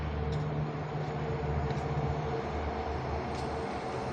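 A Dubai Metro train passes at a distance, a steady low rumble and rolling hum filling the whole stretch with a few faint higher squeals, heard alone without talk.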